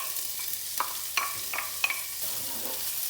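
Shallot and lardons hit hot olive oil in a sauté pan, giving a steady bright sizzle with a few sharp crackles and spatula scrapes as they are stirred, close and without talk.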